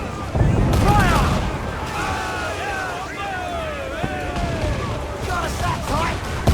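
Ship cannons boom repeatedly during a naval battle in Assassin's Creed Black Flag, a dense roar of gunfire and crashing water beneath shouting crew voices throughout.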